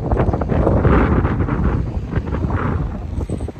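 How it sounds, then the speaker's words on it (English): Strong, cold wind on a hilltop viewpoint above Doune Castle in Scotland, a loud, continuous buffeting roar battering the microphone with uneven gusts. "So from where I'm sitting, it's very windy and very cold."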